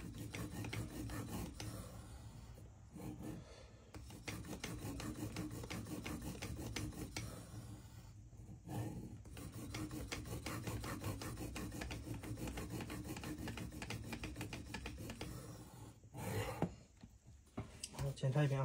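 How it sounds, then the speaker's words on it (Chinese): A knife tip is ground on a fixed-angle sharpener with steady, continuous rasping strokes, close and fairly loud, broken by a few brief pauses. "刀尖是最关键的环节，所以说一定要不停的打磨"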